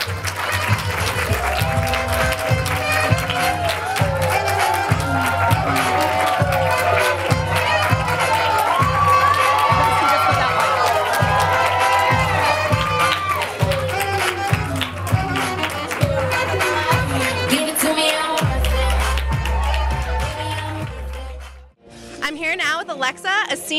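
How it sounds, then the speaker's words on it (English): Loud crowd applause and cheering at a prom fashion show, with music playing underneath throughout; the clapping and shouts stay steady for about twenty seconds, then thin out and drop away near the end. "let's give them a big round of applause"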